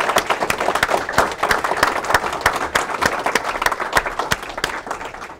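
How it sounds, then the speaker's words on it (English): An audience applauds at the close of a talk on global warming science, with dense, steady clapping from many hands that fills the whole stretch at an even, loud level. "If you join me in a round of applause."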